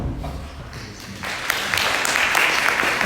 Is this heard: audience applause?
yes